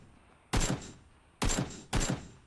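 Three sharp gunshots in PUBG, a battle royale shooter, spaced irregularly with the second and third close together, each a loud crack with a short rumbling tail over quiet background.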